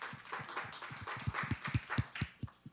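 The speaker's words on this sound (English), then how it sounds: "Can we give Dr. Posey a round of applause?" Audience applause for Dr. Posey at a STEM workforce development panel session: a short run of brisk, fairly close hand claps, loosening and thinning toward the end, with no voices.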